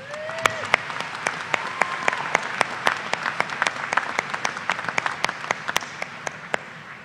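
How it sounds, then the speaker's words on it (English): A commencement audience at Washburn University applauds the Washburn Singers, sustained clapping from a large hall with sharp, close individual claps standing out and the crowd thinning toward the end. "Please let's give them another round of applause."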